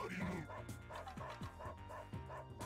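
A small dog yips and whimpers repeatedly in a Darkstalkers arcade fighting game, short high barks in quick succession over game music and effects, with someone talking over them.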